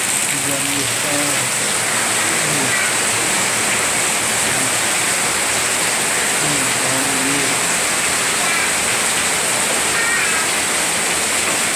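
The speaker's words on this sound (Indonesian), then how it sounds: "banjir hujan besar" Heavy rain pours down during a flood in a dense, unbroken roar that sounds close and loud throughout, with voices talking over it now and then.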